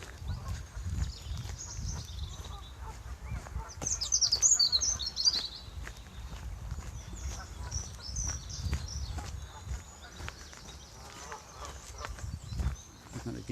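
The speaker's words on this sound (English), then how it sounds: "The geese are making noises." Geese honk and small birds chirp outdoors on a country walk between Pony Dick and Orrell Water Park, the honking rising in a brief cluster amid steady low wind and ambient rumble.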